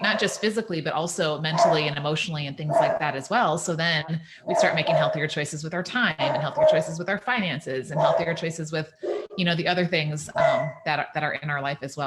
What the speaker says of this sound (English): Please excuse my dogs that are saying hi to my husband driving in right now